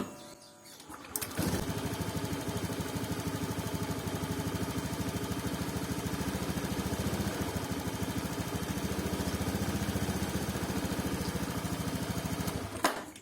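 A 2019 Honda Scoopy scooter engine runs steadily and loudly for about twelve seconds after a brief quiet start, held at a constant rev with a buzzy, even drone that stutters slightly at low RPM.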